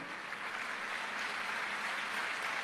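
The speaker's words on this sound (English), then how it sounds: "a big round of applause for the host here" Faint, steady applause from a crowd of students at JNTU Kakinada, a continuous patter of clapping heard at a distance.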